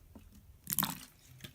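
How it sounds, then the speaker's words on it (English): A small splash of water poured into a foam-bead floam slime mixture, one brief wet burst in the middle of an otherwise quiet moment. "So I'm going to add a little tiny bit more water."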